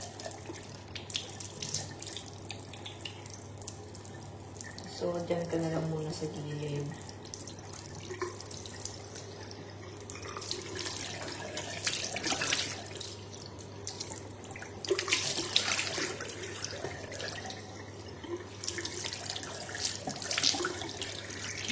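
Hot water runs from a bathroom tap in a Macau hotel room into a sink, a steady close splashing stream lasting throughout, with someone talking over it at one point.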